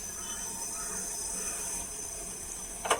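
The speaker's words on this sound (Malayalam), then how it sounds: "തിളച്ച വെള്ളം ഒഴിച്ച് കൊടുക്കാം" Boiling water poured into a cooking pot, a quiet, steady hiss and rush of liquid with a brief louder splash near the end.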